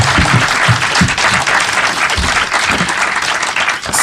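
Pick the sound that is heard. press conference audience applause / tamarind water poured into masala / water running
press conference audience applause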